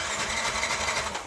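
A Yamaha Nmax 155 scooter with compression, spark and fuel cranks without catching, giving a brief rapid whirring starter chatter, quiet and close, over about a second.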